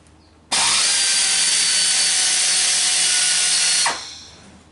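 Chevy Silverado engine cranking on the starter with one spark plug removed and suspected low compression on cylinder four; a loud, steady whirring runs for about three and a half seconds, then cuts off abruptly.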